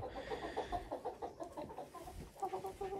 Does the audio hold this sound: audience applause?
no